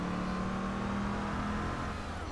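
An upgraded pink car's engine in Just Cause 2 drones loud and steady, a sustained close roar held through the whole short stretch with no voices over it.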